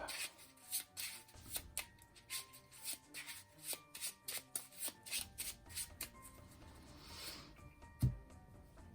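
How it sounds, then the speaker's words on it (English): A deck of game cards is shuffled by hand at close range during a solo Alien-themed deck-building game, with quiet repeated riffles and soft slaps in an uneven rhythm, then a louder thump near the end. "I'm going to shuffle these up"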